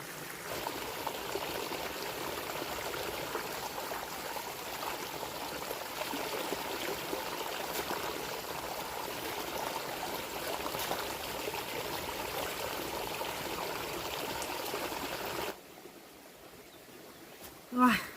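Bamboo shoots being rinsed in running water at a forest camp, with a steady stream of flowing, splashing water filling most of the stretch before it suddenly drops away near the end.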